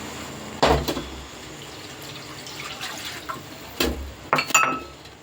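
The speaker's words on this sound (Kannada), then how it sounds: "ಇದಕ್ಕೆ ಸ್ವಲ್ಪ ನೀರು ಹಾಕೋಣ." Water poured into a pot of rice while cooking bisi bele bath, heard as a few short splashing bursts separated by quiet kitchen background, with no talking.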